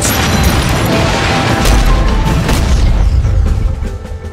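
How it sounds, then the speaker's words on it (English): Loud, dense rumbling blasts and crashing booms from the Jagged Alliance 3 video game trailer pile up continuously, heavy and close, then ease slightly toward the end. "And explosions."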